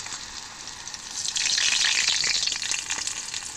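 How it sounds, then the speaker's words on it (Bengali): Battered soybean chunks sizzle in hot oil in a kadai, a hiss that swells loudly after a second and stays busy with crackles to the end. "হালকা আঁচে ভেজে নেব, লাল লাল করে ভেজে নেব, যাতে সয়াবিনগুলো পুড়ে না যায়"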